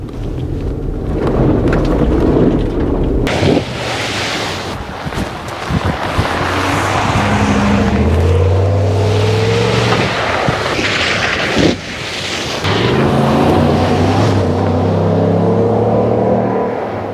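A 2021 Ram 1500 Laramie 4x4 crew cab truck churns through slippery mud with some water, its engine roaring and revving loudly and continuously, mixed with rushing, splashing wash and wind buffeting on the microphone.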